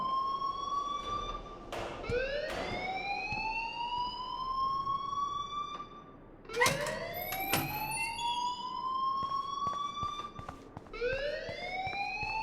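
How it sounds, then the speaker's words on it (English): A fire alarm wails in a school hallway in the video game Life Is Strange. Its rising electronic sweeps repeat in long cycles, loud and continuous, with some sharp bangs mixed in. "please turn off that alarm since that's your job"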